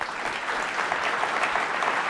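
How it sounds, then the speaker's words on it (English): Audience applause for award recipients at an annual awards celebration and fundraiser: steady, dense clapping from a crowd, even in level throughout with no voices standing out. "let's give a bigger round of applause for your recipients of this beautiful award one more time"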